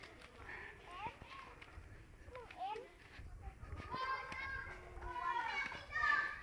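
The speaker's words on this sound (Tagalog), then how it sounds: "Ingay na ng mga bata." Children shout and play outdoors at a distance, their high voices rising and falling in scattered bursts over soft background noise, with occasional thuds and footsteps.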